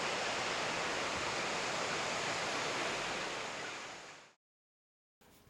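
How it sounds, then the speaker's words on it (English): Queen Mary Falls pours in a loud, steady wash of rushing water that fades out and cuts to silence, then returns briefly at the end. "This is Queen Mary Falls."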